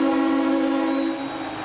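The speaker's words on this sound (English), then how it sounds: "And that train, did you hear that?" A train horn sounds in one long, sustained, harmonically rich blast near Atlanta, loud at first and then easing slightly as it fades.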